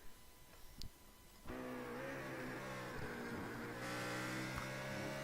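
A race car motor in the iRacing video game, heard first as a faint idle before a sudden jump to a loud, steady engine drone with a whirring pitch that rises slightly partway through. No one speaks.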